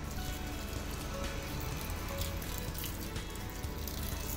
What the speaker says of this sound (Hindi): मुझे लग रहा है थोड़ा सा शायद इसमें पानी डालना पड़े